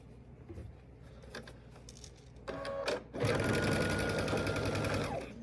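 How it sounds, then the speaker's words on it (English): Two quilt blocks are joined on a sewing machine, with a few quiet handling taps and clicks before a close, steady burst of stitching. "I'm going to take these two and I'm going to sew them together like that"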